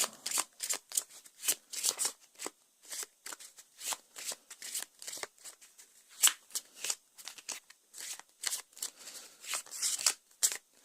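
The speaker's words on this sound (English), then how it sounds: "This could do with a little more shuffling." Playing cards from an Arkham Horror card game deck being shuffled repeatedly, crisp riffling bursts in a steady rhythm, close up with no talking.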